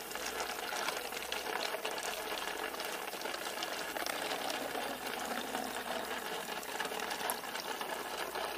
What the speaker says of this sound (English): I'm just going to fill up it into this water bottle and dump it in from the water bottle